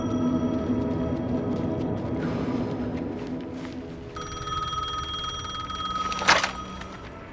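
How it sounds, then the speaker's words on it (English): A payphone in the video game Alan Wake 2 rings with a steady bell-like trill that starts partway through, over a continuous low ambient drone with a brief louder thud near the end. "The payphone was ringing."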